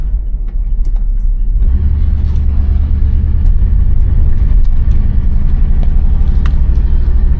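A 1979 Oldsmobile Cutlass Hurst gets gas while driving, its engine rumbling low and loud from inside the cabin and rising in a steady, continuous growl with no one talking.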